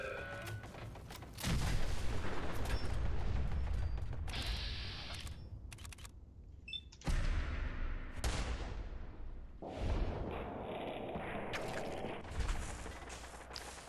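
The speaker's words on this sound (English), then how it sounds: "That's gonna explode." In a modded survival game of Fallout 4, several loud booming blasts land a few seconds apart, each with a rumbling tail, amid mechanical clanks and quieter pauses.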